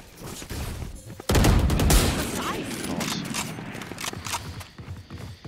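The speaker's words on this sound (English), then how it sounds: "Are you shooting the wall" Sustained gunfire into a breakable wall in a Valorant competitive match, a loud continuous volley starting abruptly and tapering into scattered shots, with voices talking over it.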